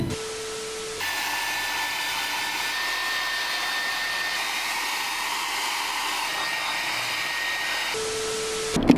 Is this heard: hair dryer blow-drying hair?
yes